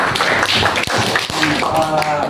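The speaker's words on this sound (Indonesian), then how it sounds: "Berikan aplaus terlebih dulu." Classroom applause from a group of students, a steady patter of many hands clapping throughout, with a teacher's voice talking over it.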